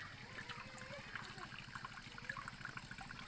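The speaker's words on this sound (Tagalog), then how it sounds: "Nakaka-amaze yung tulo ng tubig." Water dripping and trickling from the rock ceiling of a seaside rock shelter with shells, a steady faint patter of drops and running water, fairly distant and quiet.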